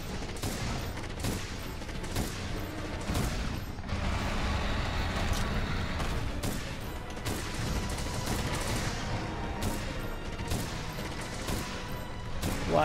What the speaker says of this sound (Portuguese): eu sempre utilizo esse estilo de fuzil arco com a munição perfurante